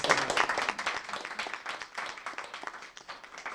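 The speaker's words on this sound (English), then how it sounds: "applause to all of you for getting this all set up" Keynote audience applauding at a tech camp, a dense, continuous patter of many hands clapping at steady moderate volume throughout, with no voices over it.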